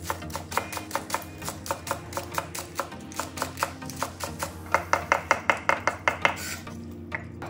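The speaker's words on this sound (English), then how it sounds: "Slice 3 green onions" A knife slicing three green onions on a cutting board, a steady run of crisp, close chops at a quick even rhythm that speeds up briefly toward the end.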